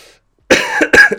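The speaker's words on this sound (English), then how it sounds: "Sorry, I have this bad cough at the moment." Two harsh coughs in quick succession, loud and close, after a brief moment of silence.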